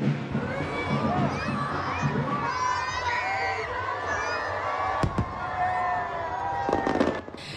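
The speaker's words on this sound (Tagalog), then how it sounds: "Sa isang engrandeng fireworks display at drone show, sinalubong ang Chinese New Year" Chinese New Year fireworks crackle and pop over a noisy crowd, with a sharp bang near the end and cheering and shouting voices throughout.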